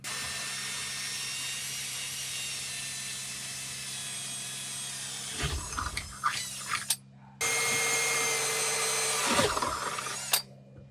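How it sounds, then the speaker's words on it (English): A power drill bores holes for a microwave overhead cabinet kit. A loud, steady whine runs for several seconds, then breaks off into short bursts, goes quiet, and returns for a second strong stretch before stopping abruptly. "we're just going to drill out these 4 holes"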